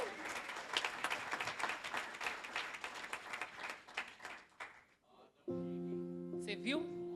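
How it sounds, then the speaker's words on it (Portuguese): Audience applause at a church family event, steady dense clapping from a crowd that fades out, followed by a sustained musical tone. "Uma salva de palmas."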